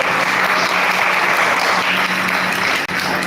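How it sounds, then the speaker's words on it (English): Dense, steady applause from a school event audience honoring the participants, a loud continuous wash of many hands clapping throughout with no talk over it. "May I request my audience to give a huge round of applause for all the participants."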